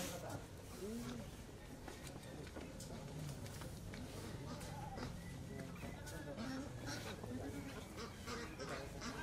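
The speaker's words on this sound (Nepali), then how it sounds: "यो चाहिँ छुट्टै हाँस हो" A duck at a rural goat farm gives a series of short nasal quacks, some near and some further off. Other birds and people talking sit faintly in the background.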